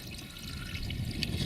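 A clean mountain stream flows steadily, a close, continuous babbling and gurgling of water with small splashes.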